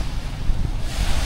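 Sea waves at a freediving spot in Mabini, Batangas, heard as a broad steady surf roar mixed with wind buffeting the microphone, loud and continuous with no voices.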